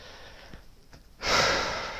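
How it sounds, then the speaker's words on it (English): A single deep breath drawn quietly and then let out as a loud, long, breathy exhale close to the microphone, with no talking. "Deep breath."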